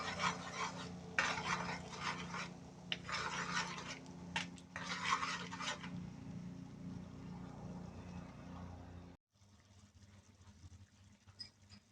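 Butter garlic mixed seafood stirred in a pan, with bursts of scraping and sizzling movement over a low steady hum, then a quieter stretch after a brief cut.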